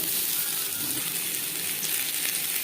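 Boiled potatoes sizzling in a spoonful of hot mustard oil while a mutton curry is being cooked, a steady broadband crackle and hiss that holds level throughout, with no talking.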